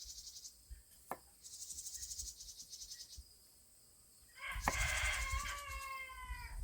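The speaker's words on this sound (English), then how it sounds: "All of the chickens are excited." Soft, distant clucking from a few chickens over a steady high insect chirr, with a brief rising squawk near the end; quiet and outdoors.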